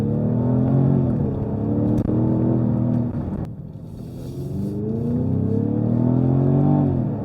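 A Jaguar F-Type sports car engine idles with a steady, deep rumble close by, its pitch wavering slightly and dipping briefly midway before settling back, with no talk over it.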